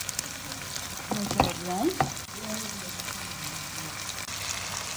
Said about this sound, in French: Ensuite les filles, vous déposez vos boulettes.